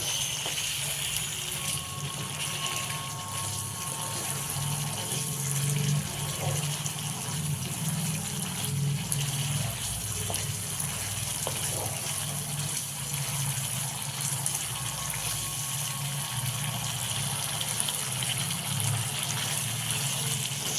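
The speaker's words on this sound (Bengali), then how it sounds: "জল আমি অ্যাড করে দিচ্ছি।" Water is poured steadily into a pan of vegetarian paneer curry during home cooking, a continuous gushing, filling flow that runs close and fairly loud for the whole stretch with no talk.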